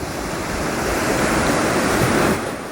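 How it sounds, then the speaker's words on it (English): Ocean waves breaking and washing in, a broad steady roar that swells gently then eases near the end, close and loud with no voices. "as we watch the waves"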